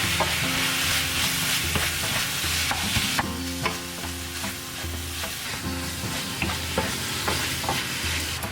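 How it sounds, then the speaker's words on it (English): Beef mince frying and sizzling in a pan, steadily browning after onions, with repeated scraping and stirring clatters as a spoon or spatula breaks it up, close and continuous with no talking. "add the beef mince and break it up with your spoon or spatula until it all becomes nice and brown"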